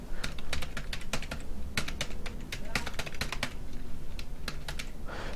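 Fingers type code on a computer keyboard in quick, irregular bursts of sharp clicking keystrokes, close by and fairly quiet, with a soft background hum and no words spoken.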